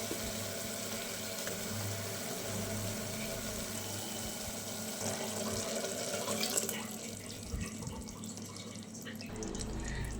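Water added to rinse out ground masala for a mushroom palav, heard as a faint, steady stream of running water with soft splashing throughout.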